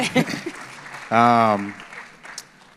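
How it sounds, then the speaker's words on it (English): Scattered audience clapping at the start, then a voice calls out loudly over a quieter room. "You can clap for that. You can clap for that."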